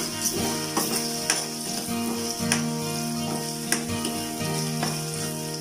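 Garlic fries in butter with a steady close sizzle and bright spitting pops, punctuated by a few regular scrapes of stirring against the pan.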